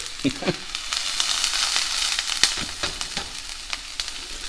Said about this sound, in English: time to throw in our onions